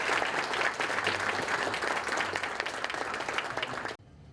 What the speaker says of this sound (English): let's give a round of applause to Cadet Elizabeth Sherwood and Cadet Eric Estrada